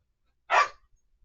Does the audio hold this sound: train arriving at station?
no